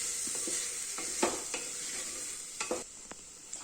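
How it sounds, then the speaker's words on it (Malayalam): A chicken curry base is stirred in a pan, a constant sizzle under a handful of distinct scraping strokes of the spoon at an uneven pace, close and fairly loud, with no talk. "ഇനി നന്നായിട്ട് മിക്സായി വരണം ഞാൻ മിക്സ് ചെയ്ത് തരാം"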